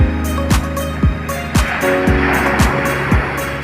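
Rough, constant wash of sea water with heavy splashing in Manila Bay, mixed with a rhythmic low boat engine thump repeating about twice per second.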